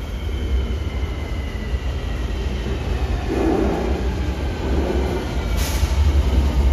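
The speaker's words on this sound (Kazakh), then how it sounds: "Менә метро килә." A metro train in Kuala Lumpur rumbles steadily on the rails arriving at a station, loud and close, with a brief high squeal of wheels near the end and no voices.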